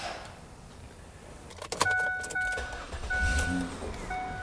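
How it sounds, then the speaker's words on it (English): A Ford 500 sedan during an alternator replacement: keys jingle, then the engine cranks and catches about halfway through, followed by a steady idle with short electronic chime tones on top. "We're going to start the engine."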